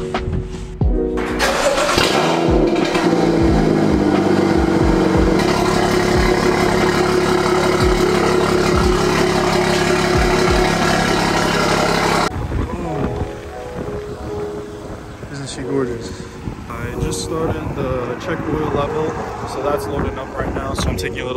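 A BMW F series car engine cranks and fires up, then revs and runs at a steady loud idle before the sound shifts to a rougher, breezier running engine, with someone talking over it.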